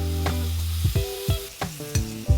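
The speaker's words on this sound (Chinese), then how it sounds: "热锅冷油，将咸肉和扁豆入锅炒透" Diced cured pork and green beans being stir-fried in oil in a hot wok, with a steady sizzle broken by several sharp scraping stirs of the spatula.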